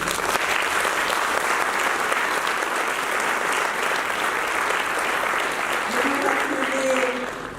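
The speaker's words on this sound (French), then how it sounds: "on peut les applaudir" Steady audience applause fills the room at a 30th anniversary celebration for Maison Shalom, honoring two men who once hid a speaker; continuous, fairly loud clapping with faint voices underneath.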